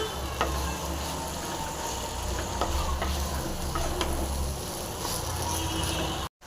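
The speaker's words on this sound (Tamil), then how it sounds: "நல்லா ஃப்ரை பண்ணி வச்சுருக்கோம் பாவக்காய் நல்லா கலக்கிங்க" Fried bitter gourd stirred in a hot pan: a steady sizzling hiss with light, regular spatula scrapes close by, ending in a brief cut to silence.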